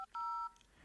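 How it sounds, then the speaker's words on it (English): Telephone number dialed on a touch-tone phone: a couple of short clean keypad tones in quick succession, one brief beep then a longer held tone, quiet and isolated with no talking. "Then she dialed the number."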